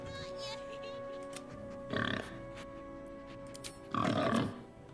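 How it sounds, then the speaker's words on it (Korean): A pig grunts and oinks in Baldur's Gate 3, two short bursts about two seconds apart over steady game background sound. "왜 돼지가 날 보고 잉크를 할까?"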